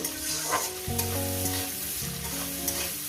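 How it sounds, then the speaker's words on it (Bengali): Onions frying in a pan with salt give a continuous, even sizzle close up, with occasional soft stirring scrapes and faint melodic tones running underneath. "পেঁয়াজটাকে মিনিমাম দু মিনিট আমি ভেজে নেব"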